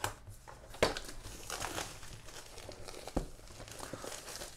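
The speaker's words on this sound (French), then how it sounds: "on déballe ça petit à petit" Orange cardboard packaging for a Fossibot F102 phone crinkles and tears as it is opened piece by piece, with sharp crackles near 0.8 and 3.2 seconds over a continuous rustle close by.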